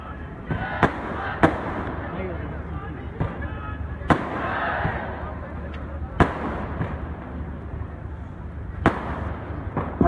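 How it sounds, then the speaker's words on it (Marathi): Firecrackers burst behind a Shiv Sena political rally in Pune, giving several sharp, loud cracks at irregular intervals over a steady crowd murmur and muffled amplified voice. "फटाके मागच्या बाजूला जे फटाके वाजतात ते कृपया थांबवावे"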